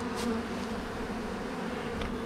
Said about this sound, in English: You think the bees are hungry?